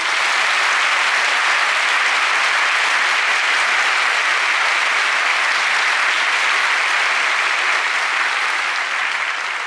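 Sustained loud applause from a crowd at the retirement ceremony for the racehorse Meikei Yell on a rainy day, dense steady clapping that fills the whole stretch without fading.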